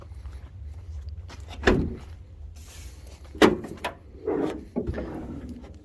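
Heavy metal clunks and rattles of an old Ford diesel truck's sagging door being lifted and slammed shut, several thuds spaced over a few seconds, close by.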